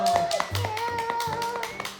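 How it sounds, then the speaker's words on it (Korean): Hands clap in a quick series of sharp, close claps at mealtime at home with a young child named Cherry, with a voice and tonal sounds running over the top. "박수"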